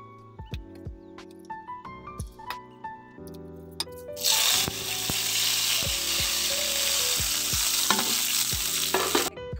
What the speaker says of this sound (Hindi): अब मैं इसमें तड़का डालूंगी।